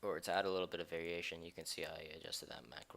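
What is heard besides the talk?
None of the usual background noises is heard.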